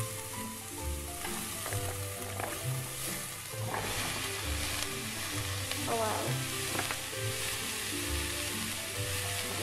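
Chopped leek sizzles steadily in a hot pan for a vegetarian risotto, with occasional stirring clatter; a brief exclamation from a voice near the start.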